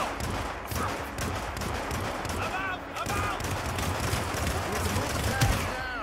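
Bursts of gunfire from the stealth game Hitman, rapid shots rattling steadily over several seconds amid game noise, with a voice speaking over the action.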